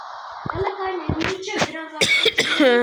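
A few short, harsh coughs burst out near the start, followed by a voice talking over lively background noise.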